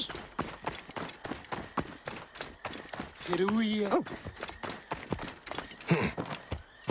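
Horse hooves clip-clop in a steady rhythmic gait in Assassin's Creed Odyssey, close and continuous, with a short neigh midway and someone speaking briefly over the hoofbeats.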